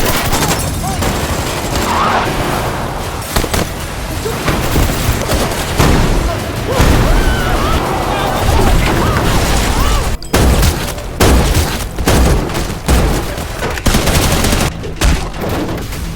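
A shootout scene in a film bursts with loud, continuous gunfire, rapid volleys and machine-gun rattles mixed with booms and crashes, as a voice narrates over the din.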